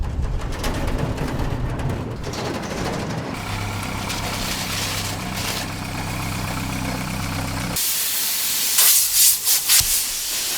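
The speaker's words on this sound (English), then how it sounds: "So we blew all the dust off the Mini and got it into the paint booth." Compressed air blowing dust off a classic Mini campervan body, a loud steady hiss under a low engine-like rumble, then a brighter harsher blast near the end with short bursts.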